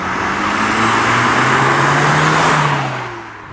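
A Mazda MX-5 sweeps past close by, a loud engine roar and tyre rush that swells then fades away over a few seconds.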